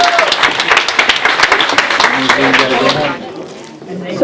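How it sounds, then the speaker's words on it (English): A crowd at a town meeting bursts into dense, loud clapping mixed with voices, which fades out after about three seconds. "Give them a round of applause."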